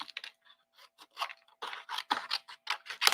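Scissors snipping apart stamped cardstock for Christmas cards, a run of short crisp cuts in uneven bursts, close and fairly quiet, with no talking.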